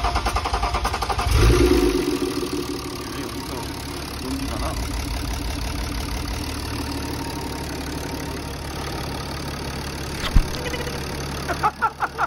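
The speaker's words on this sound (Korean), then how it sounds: "아, 엔진 소리 좋네." A BMW X5 30d diesel engine idles steadily nearby after a timing chain replacement, a low continuous rumble with a few faint clanks and knocks near the end.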